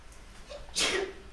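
A single sharp sneeze bursts out during a committee meeting, close and fairly loud, with a brief breathy tail, in an otherwise quiet room.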